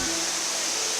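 A jungle waterfall in the Yucatan rainforest roars as a loud, steady broadband rush, heard alone.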